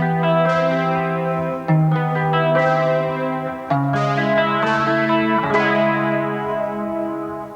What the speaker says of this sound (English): you can assign the synthesizer sound to individual strings on the guitar